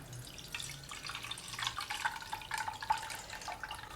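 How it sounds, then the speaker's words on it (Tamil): Water trickles and splashes faintly, with scattered drips and light gurgling as it is poured over and drained from flattened rice flakes. "தண்ணி ஊற்றி ஊற வச்சுக்கலாம் தண்ணி வடிச்சுக்கலாம்"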